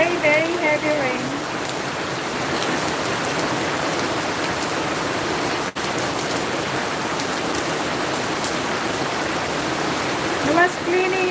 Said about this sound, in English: Very, very heavy rain.